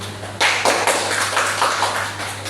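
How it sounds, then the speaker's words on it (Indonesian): A classroom of students claps hands together, a burst of many overlapping claps that starts abruptly and carries on steadily over a low constant hum. "tepuk tangan dulu."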